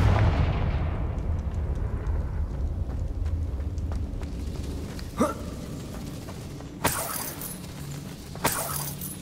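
In Hogwarts Legacy, a Confringo explosive spell goes off with a big booming rumble that fades, followed by a few sharp crackling impacts and bright shattering hits.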